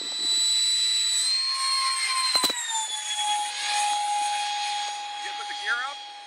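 A Hobbyking ViperJet RC model jet passes by on its maiden flight, its turbine whine sliding down in pitch as it flies past, with a brief sharp crackle midway and people talking nearby.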